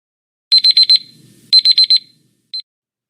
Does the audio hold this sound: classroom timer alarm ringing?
yes